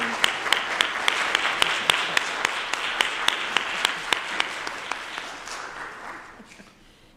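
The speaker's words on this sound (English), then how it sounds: "just give an applause to the board who sent us on the trip" At a board of education meeting, a small group claps in a thin, sparse round with distinct individual hand claps that taper off and fade within several seconds.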